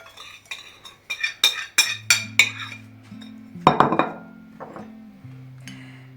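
Dry spices such as sugar and salt being stirred in a bowl while making Korean-style cucumbers, heard as a run of close, sharp clinks and scrapes of a utensil against the dish, loud at first and then easing off.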